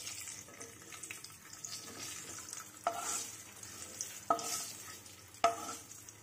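Whole cumin seeds and a bay leaf fry in hot oil, producing a faint, steady sizzle with soft crackles and a few sharp clinks as they are stirred.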